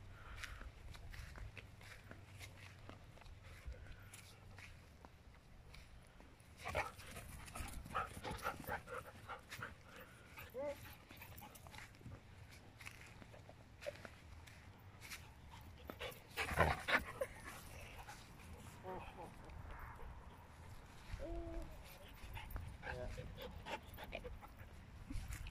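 A dog pants steadily outdoors during a game of fetch, the breathing close and continuous, with occasional faint whimpers and footsteps shuffling through the ground beneath it.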